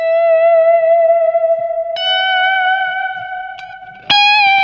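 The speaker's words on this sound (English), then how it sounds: "you can hear how my note stays pure, but the echo around it starts to detune" Sustained electric guitar notes run through a slightly detuned tape echo, the pure tone ringing with a wavering halo, new notes plucked at about two and four seconds, loud and alone.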